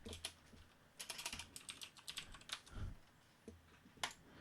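Quiet, close clicking of keys on a computer keyboard, typed in irregular bursts with short pauses and no talking.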